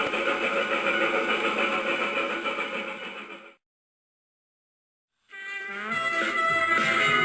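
Skarloey, a narrow gauge steam engine, runs along the tracks, a steady continuous mechanical rumble with hiss that cuts out to silence midway and then resumes loudly alone.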